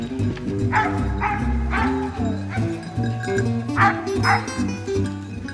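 Hunting dogs bark and yip repeatedly during a family hunt drive in the countryside, a chorus of overlapping barks and whimpers, fairly close, with a few faint voices in the background.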